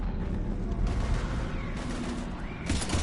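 Heavy gunfire in Mass Effect 3 rumbles as a steady, dense barrage of shots and booms, moderately loud, with no clear talking over it.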